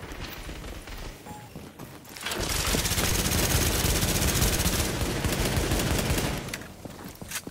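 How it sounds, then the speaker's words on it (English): Rapid sustained automatic gunfire in the Tom Clancy's The Division video game during a fight with a rogue agent, a dense loud burst lasting several seconds with lighter shots before and after, no talking. "Just keep shooting at him."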